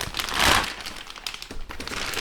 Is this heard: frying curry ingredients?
no